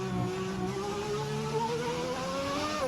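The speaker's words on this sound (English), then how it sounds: "that engine is loud off ArcJet" A loud race car engine in the Fallout pre-war racing game, a steady, sustained droning whine that shifts slowly in pitch as it holds on, heard alone without speech.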